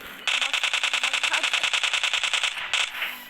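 Rapid automatic gunfire from PUBG Mobile zombie mode rattles in a fast, even burst of about twenty loud shots, followed by a short pause and a brief final burst.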